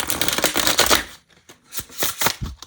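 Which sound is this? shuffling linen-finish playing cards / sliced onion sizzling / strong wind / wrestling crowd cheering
shuffling linen-finish playing cards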